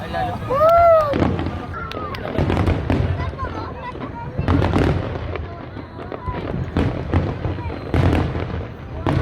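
Repeated firework bursts crackle and boom throughout a pyromusical finale, some with whistling rises, fairly close and loud, with voices chattering in between.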